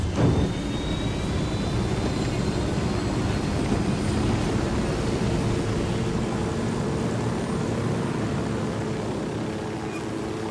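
Aircraft engine in the video game Ghost Recon Wildlands, a steady loud droning roar that holds close and even throughout with no talk over it.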